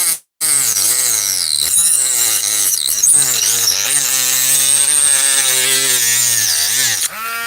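A cheap non-Dremel rotary tool cuts through plastic with a steady, high, whining buzz that wavers in pitch as the load changes, loud and close, running almost without a break after a brief start.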